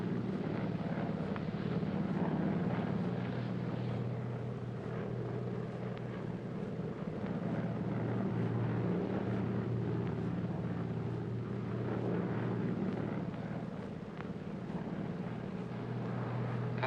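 Inside a passenger plane cabin in flight, a low, steady engine drone hums continuously with faint airy rushing, unbroken and moderately quiet.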